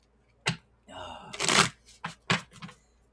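Tarot cards being shuffled by hand in several quick, papery riffling bursts at close range, with short pauses between them and no speech.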